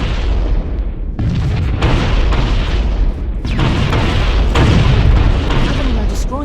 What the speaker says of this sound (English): Covenant are destroying the life pods.